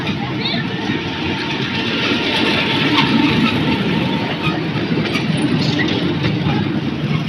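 A mini toy train at Amani Park, Kulaura, rumbles along steadily nearby, a continuous low rolling clatter with faint squeaks, no clear voices over it.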